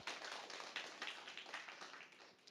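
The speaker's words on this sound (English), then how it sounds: "Let's give her a round of applause." An audience applauding at a Taiwan and United Nations talk, a dense, steady patter of many hands clapping, faint and fading slightly toward the end.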